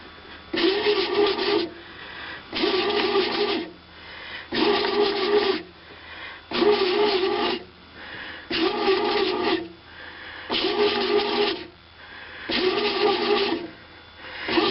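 A Hamilton Beach Home Baker 29881 bread machine kneading dough, a loud rubbing, scraping churn in seven regular bursts of about a second and a half, each separated by a short pause, close by with no talking.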